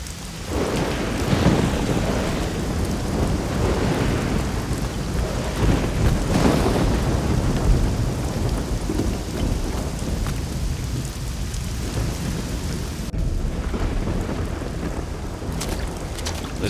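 In the video game Risen 2: Dark Waters, a thunderstorm at sea: steady heavy rain hisses throughout while deep thunder rumbles roll in and fade, loud and continuous with no voices.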